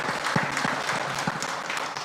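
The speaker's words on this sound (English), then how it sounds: "You give yourself a hand of applause." An audience at a farmers' day event applauds steadily, with scattered hand claps blending into continuous clapping throughout.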